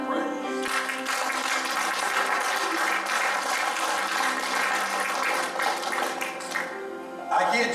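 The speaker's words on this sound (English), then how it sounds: "Give Lord a hand clap and" A church congregation claps steadily in praise during a worship service, a dense and continuous patter that runs throughout over sustained music and voices, then thins near the end.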